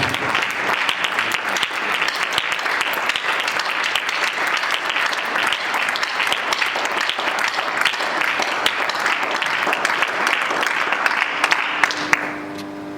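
A church congregation at a retreat applauding together, a loud, dense and continuous wash of clapping from many hands that holds steady for about twelve seconds before stopping abruptly.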